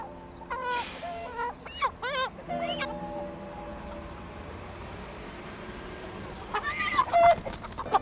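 Several short clucks and squawks from a rooster sound near and fairly clear, then a quieter pause, then another burst of agitated clucking.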